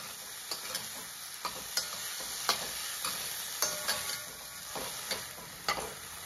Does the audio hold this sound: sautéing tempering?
yes